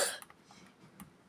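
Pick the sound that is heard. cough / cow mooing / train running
cough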